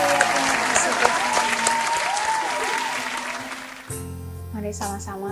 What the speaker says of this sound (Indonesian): Berikan sorak-sorai yang terbaik untuk Tuhan Yesus